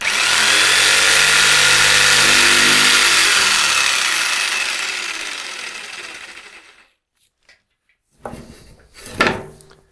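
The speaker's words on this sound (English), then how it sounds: "then you get your jigsaw and cut it out" A jigsaw cuts a circle out of wood, a loud, steady, close buzzing that runs several seconds and then winds down. After a pause come a few sharp knocks and clatters.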